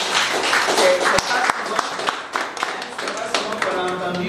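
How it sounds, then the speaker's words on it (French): A seminar audience of sports trainers bursts into lively applause, many hands clapping close and irregular for several seconds while voices talk over it. "je voudrais que vous vous applaudissiez"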